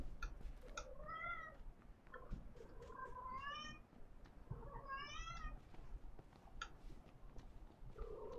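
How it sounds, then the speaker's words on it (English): Cat meowing in a PUBG match, several drawn-out, rising and falling meows spread across the stretch, faint and set against low scuffling background noise, with no speech. "What do you want, cat?"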